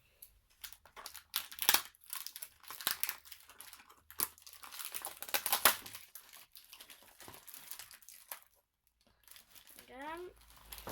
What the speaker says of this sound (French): Je prends le ciseau.